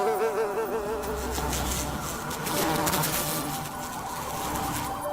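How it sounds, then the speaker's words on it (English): Insect buzzing in the Journey to the Moon video game, a steady wavering drone over a dense game ambience, continuous and fairly loud throughout. "What's that I hear? An insect?"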